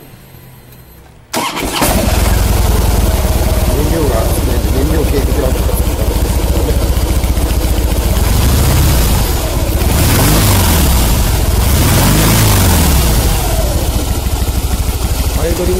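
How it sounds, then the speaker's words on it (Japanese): A 2008 Harley-Davidson FXST fitted with an aftermarket silencer-type exhaust cranks and fires up about a second in, then settles into a loud, close, steady idle set around 800 rpm, with a few throttle swells near the end. "ではエンジンをかけてみましょう。"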